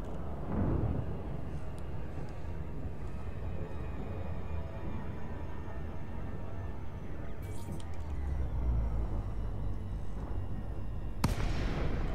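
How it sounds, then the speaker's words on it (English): Fireworks in the space game Elite Dangerous, a continuous low rumbling roar with dull booming bursts and a few sharp crackling pops, heard with no talk. "Oh, look, fireworks from us."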